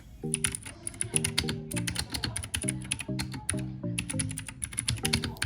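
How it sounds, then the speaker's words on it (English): A Tezzare TK 63 Pro mechanical keyboard with blue switches is typed on up close in steady bursts of sharp, clicky keystrokes, loud and continuous, with no voices. "Let me give you a typing sound test."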